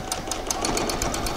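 A sewing machine stitches a seam in a quick, steady run of mechanical pulses, close and moderately loud.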